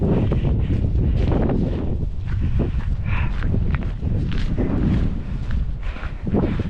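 Cold wind gusts steadily across open golf-course uplands near Mourne Park in Northern Ireland, a continuous loud roar buffeting the microphone with faint footsteps on the trail beneath.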